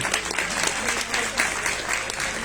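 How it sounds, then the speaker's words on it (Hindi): A crowd claps steadily at an ashram ground-breaking ceremony, a dense, continuous patter of many hands, moderately loud and sustained throughout. "भाई अभी तो ताली बजनी चाहिए जोर से"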